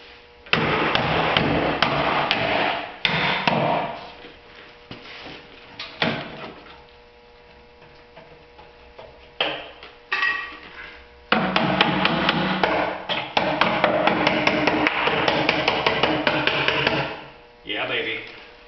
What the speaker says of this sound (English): let's just beat it into submission